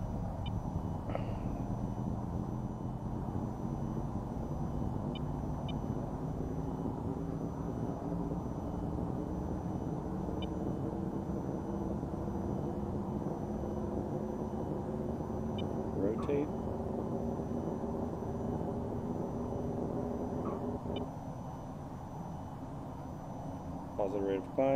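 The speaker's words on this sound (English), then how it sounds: "I want to conserve fuel on this takeoff, so this will not be an afterburner takeoff" Jet engine roaring steadily through a non-afterburner takeoff in the VTOL VR flight game, a constant low rumble with slowly rising tones, loud and continuous throughout.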